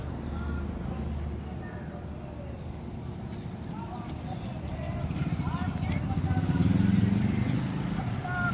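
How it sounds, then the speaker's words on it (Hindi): A motorcycle rally passes near a village beneath a railway bridge, with a low rumble of engines that swells as the bikes draw closer, under voices talking. "हमारी ये शाकाहारी रैली जो मोटरसाइकिल द्वारा चली हुई है गांव हंतरा के बिल्कुल नज़दीक आप आते हुए देख रहे हैं।"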